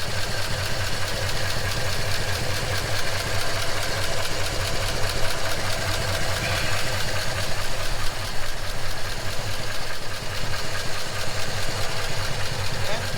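A 1939 Ford Deluxe flathead engine idles in a steady, even, close rhythm that runs without pause throughout.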